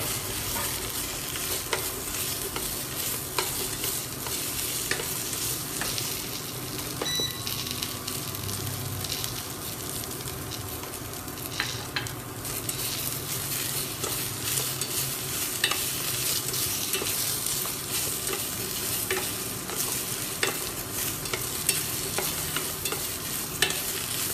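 Beans, beef and garlic are stir-fried in a pan, giving a constant close sizzle with soft scraping and tossing noises running through it and no voices.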